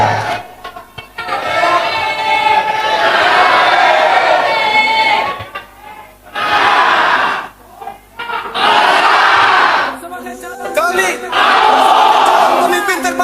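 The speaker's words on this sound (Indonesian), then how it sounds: "Berikan tepuk tangan yang paling meriah untuk Bapak Haji Muhammad Ridho Suganda SHM" A crowd at a 2024 regency election debate in Kuningan claps and cheers loudly. The roar runs in long, dense waves with brief dips, and an announcer's voice carries over it at times.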